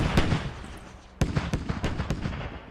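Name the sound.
mortar technical firing in the video game Squad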